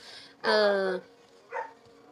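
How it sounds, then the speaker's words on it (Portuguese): Dogs bark near a house, one sharp, loud bark followed by a shorter, fainter one about a second later, against a quiet background. "Me perdoem o barulho, tá? É porque aqui tem bastante cachorro na volta de casa."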